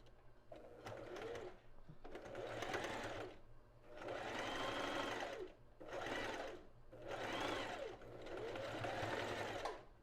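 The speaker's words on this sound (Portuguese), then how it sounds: "Organizei e eu vou fazer outra costura reta aqui." A domestic sewing machine stitches a straight seam on lingerie fabric in close, steady whirring bursts, four or five runs separated by short pauses.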